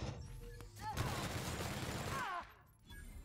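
A sustained automatic weapon bursts in the video game The Outer Worlds, a dense rapid rattle lasting about a second and a half before cutting off, with quieter game sounds and a brief voice around it.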